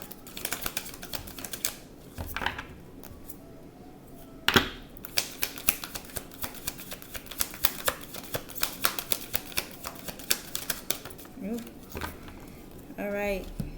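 Tarot cards being shuffled and drawn for a reading, giving a long run of quick, close papery riffles and taps with a few sharper snaps, under light background noise.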